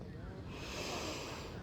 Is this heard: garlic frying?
no